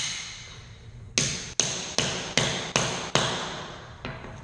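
Hammer blows drive nails into tack strip over a concrete floor: seven sharp, close strikes at a steady, unhurried rhythm, each ringing briefly before the next.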